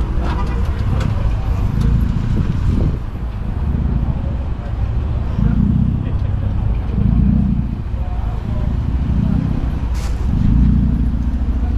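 A car engine rumbles low and steady nearby at a car meet, its exhaust note swelling in a few pulses, with voices talking over it.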